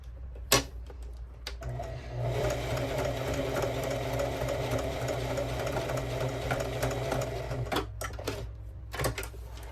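A sewing machine stitches fabric for a duffle bag in one continuous whirring run of about six seconds, close and steady, with a few clicks and handling knocks before and after.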